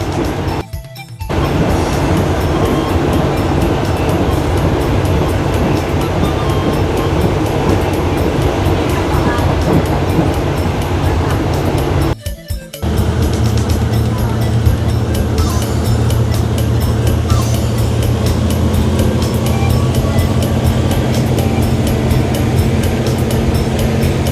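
A passenger train bound for Pattaya, Thailand rumbles and clatters steadily through the countryside, loud and close from inside the carriage, with two brief dips in the noise and faint voices at times.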